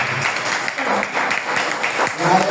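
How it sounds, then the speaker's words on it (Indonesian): A church congregation applauds during a worship service, a steady wash of clapping crowd noise heard at moderate distance with murmuring voices mixed in. "Berikan tepuk tangan untuk Yesus."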